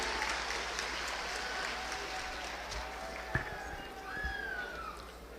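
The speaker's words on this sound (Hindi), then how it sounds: "जोरदार तालियां उनके लिए होनी चाहिए।" Sustained crowd applause at a political rally in Rohtas, Bihar, attended by Nitin Gadkari and Tejashwi Yadav. Many hands clap in a dense, even roar, with a few sharper claps standing out toward the end.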